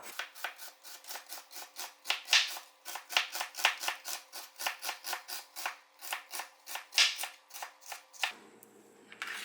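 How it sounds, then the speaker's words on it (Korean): A knife finely slicing onion on a cutting board for boiled pork suvuk, a quick, steady run of crisp close-up cuts lasting several seconds, then stopping, with no voices. "양파를 아주 곱게 채 썰어볼게요"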